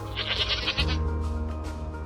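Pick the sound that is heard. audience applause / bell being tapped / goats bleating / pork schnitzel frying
goats bleating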